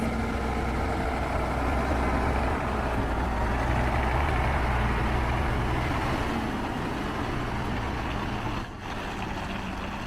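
A heavy haul truck engine labours on a mountain pass curve, a loud, continuous low rumble that holds steady and dips slightly near the end, with no voices.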